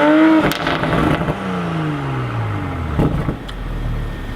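A Toyota Supra sports car with no manual transmission revs its engine nearby, a loud rising and falling whir that sweeps up and down over a few seconds, with a leaf blower droning in the background.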